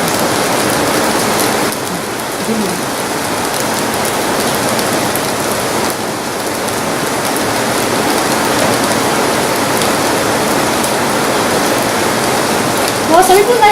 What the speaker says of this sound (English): Then let it fry a bit for some time.